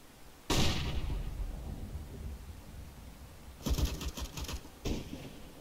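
Flashbang grenade detonating in Counter-Strike: Global Offensive: one sharp loud bang followed by a long ringing decay, then a cluster of rapid gunfire-like bursts and a final pop.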